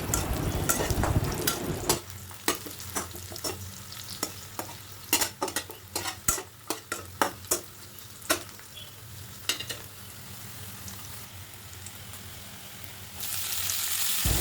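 Green chilies, chopped onion and a whole garlic bulb frying in a pan, a soft steady sizzle broken by a series of sharp spatula scrapes and knocks against the pan, then the sizzle flares louder near the end.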